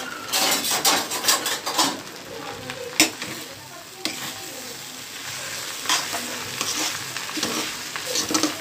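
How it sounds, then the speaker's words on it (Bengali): Thai chicken fried rice stir-fried in a pan, with steady close sizzling and repeated scraping and stirring strokes of a utensil against the metal, loud and continuous without talk. "ফ্রাইড রাইসটা আসলে স্পেশালিটি এটা ফ্রাইড রাইসটা এভাবেই রান্না করতে হয়"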